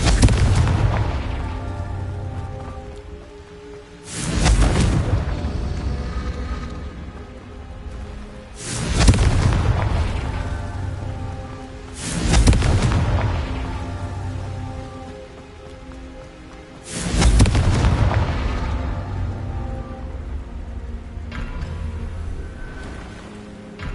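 Confringo fire spell explosions in Hogwarts Legacy, five loud booming blasts spaced several seconds apart, each with a sharp onset and fading rumble, set over steady rain-like ambience.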